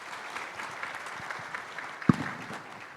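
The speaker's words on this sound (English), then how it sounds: "I'd ask the room to join me in a round of applause thanking our panelists today." Soft, thin applause from a conference room audience thanking panelists, fairly quiet and steady, with one sharper nearby knock or clap standing out partway through.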